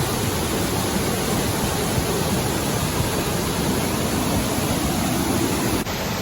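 Yellow Creek Falls, a mountain waterfall reached by hiking, roars as a steady, loud broadband wash of falling water that holds constant throughout, with no voices.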